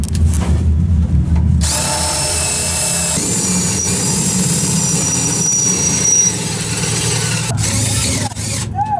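A power tool drives a bolt into a race car at Ocean Speedway on championship night, a loud continuous whirring drone holding steady for several seconds before cutting off near the end.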